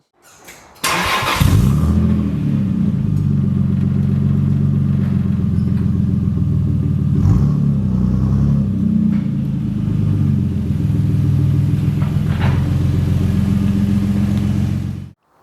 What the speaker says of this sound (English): I can drive the car off